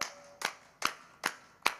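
Hand claps from an audience doing a group exercise at a conference, four sharp claps in a steady slow rhythm, fairly close, with no talking.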